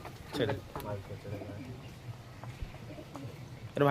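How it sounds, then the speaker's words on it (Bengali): Soft, low pigeon coos repeat in a gentle rhythm nearby, mixed with faint rustling and a person speaking quietly, from high-flying pigeons in a loft. "একটা ফুলশিরা পায়রা আছে দেখতে পাচ্ছ"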